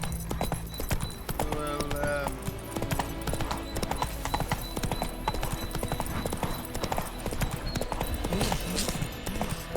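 Hooves of the horse Roach clip-clop at a gallop in The Witcher 3 video game, a loud rapid pounding rhythm throughout, with a brief whinny and a voice speaking over it.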